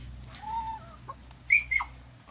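Chickens cluck softly and intermittently over a low outdoor rumble, with a few sharper, higher squawks in the second half, close by.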